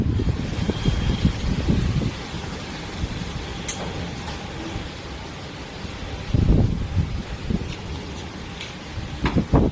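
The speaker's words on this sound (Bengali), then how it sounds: "আর হাওয়া দিচ্ছে দেখো, ভীষণ হাওয়া দিচ্ছে।" Strong wind blowing before a rainstorm, rumbling low gusts that surge and fade against the microphone, loudest at the start and again midway, with faint rustling and no speech.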